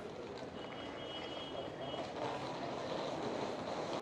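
A train at a station in India, its low rumbling mixed with busy platform noise and a faint tonal whine, steady and continuous with a slight swell toward the end, no clear talk.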